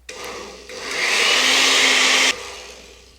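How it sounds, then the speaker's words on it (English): A kitchen blender whirs up as it blends flour into a batter, the motor rising to a loud steady whine for about a second before cutting off abruptly. "I'm going to let this blend until it's totally smooth."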